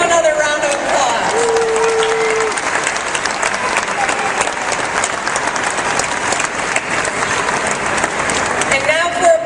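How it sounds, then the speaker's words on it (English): Loud, sustained applause from a political crowd in Michigan greets a congressional delegation, continuous and close throughout, with a voice briefly heard over the clapping near the start and end. "Let's give them another round of applause."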